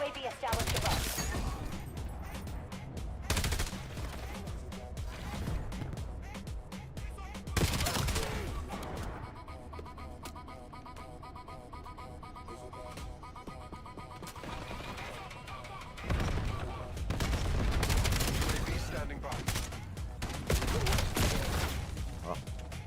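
Shotgun fire and other gunshots boom in clustered bursts in a Call of Duty match, with heavy blasts at the start, near the middle and toward the end, and game radio chatter in the quieter stretch between them.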